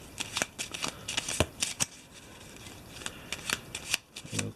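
Eldritch Horror board game cards are shuffled by hand at close range in quick, uneven riffles and rustling bursts with brief pauses between them.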